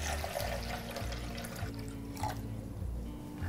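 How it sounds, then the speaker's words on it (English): Water is poured into a container on a kitchen scale while sourdough bread dough is being mixed, a continuous splashing, gurgling stream close to the microphone, with no talking. "So I'm gonna scale out 554 grams of water."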